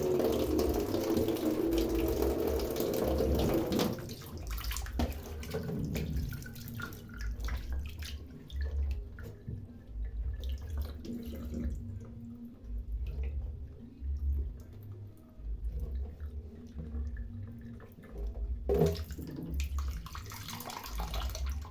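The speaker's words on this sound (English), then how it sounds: "So after cutting, I'm going to wash them." Running tap water pouring into a sink while cut liver is washed, a steady splashing rush that thins into quieter trickles and handling noises, with a brief louder splash near the end.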